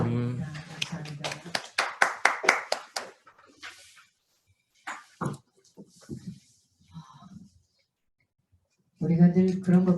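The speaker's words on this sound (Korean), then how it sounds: "하나님께 영광의 박수 드립니다." A church congregation gives a short burst of applause, many hands clapping close together at first before the sound fades into scattered noise and a voice speaking.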